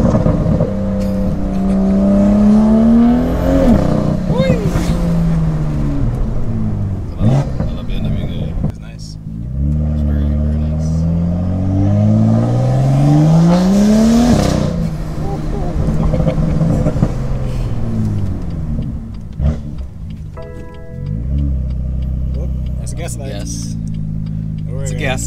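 Tuned BMW M2 on MHD Stage 2+ pulling hard on the street: loud, close exhaust climbing through two strong rising revs with a low droning rumble between and after them.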